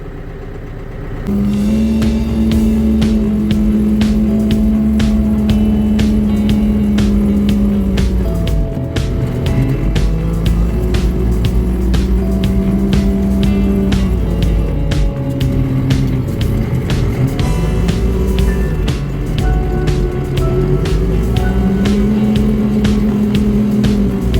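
A tractor towing a fertilizer spreader drives to another field, its engine droning loud and steady for the whole stretch with rising and falling revs, close to the listener.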